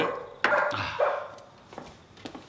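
A dog barks a few times in short, sharp bursts at moderate distance, with quieter yelps trailing off between them and no talking.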